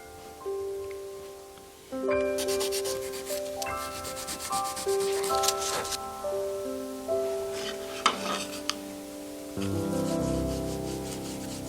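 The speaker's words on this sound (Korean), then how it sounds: "이게 마른 다음에 사포로서 이제 문지르면은 선이 뚜렷하게 이제 나타납니다" Sandpaper rubs steadily across a dried inlay on handmade traditional Korean wooden furniture, a soft scratchy friction heard close up beneath gentle melodic background music, without speech.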